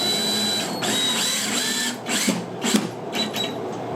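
A power drill drives long screws into cedar planter panels, whirring close and loud with uneven bursts and brief pauses as the screws bite into the wood.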